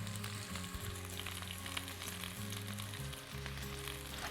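Minced ginger and thinly sliced garlic frying in a pan give a continuous, even sizzle and crackle, fairly quiet and unbroken throughout, with no voices.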